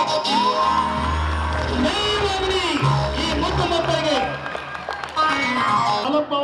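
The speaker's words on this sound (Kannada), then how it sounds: "ಲಕ್ಷ್ಮಣ ಅಂತ ಈ ಮಕ್ಕಳಿಗೊಂದು ಚಪ್ಪಾಳೆ ಜೋರಾಗಿ." Audience applause and cheering for schoolchildren after their stage play at a primary school, sustained clapping with whoops and some voices mixed in, fairly loud and continuous throughout.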